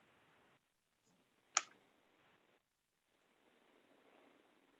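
A single sharp computer mouse click during an online township committee meeting, brief and close, over a faint low room hiss with no talk.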